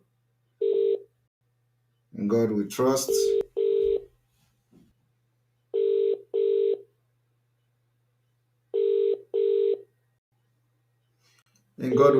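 A telephone call placed during a live broadcast rings out with repeated double ringback tones, evenly spaced with silent gaps, while someone briefly speaks between rings.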